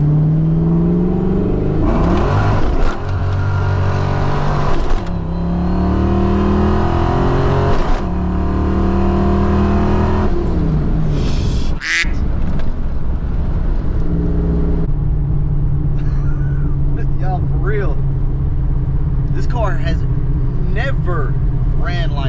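A retro Fox-body car fitted with a Vortech supercharger accelerates hard on drag radials, its engine note rising in repeated loud revving pulls with brief shifts, continuous and close throughout.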